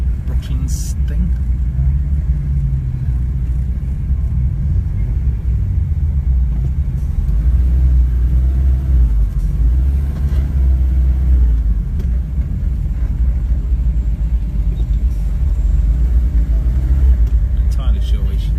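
A Citroen C15 camper van races on the Silverstone circuit, with a loud, steady in-car engine rumble and road drone throughout and people talking over it.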